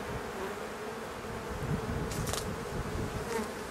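A dense, steady hum of many honeybees buzzing close by around an open hive, with individual insects droning past now and then; no talking.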